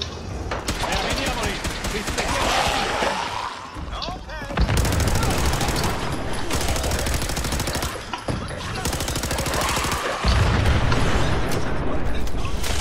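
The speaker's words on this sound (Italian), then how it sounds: "Sì, è anche esploso." Heavy gunfire fills a Fallout 4 fight against a crowd of enemies including a super mutant, with dense bursts of shots and thumping impacts that sound like an explosion, loud throughout with a player's voice over it.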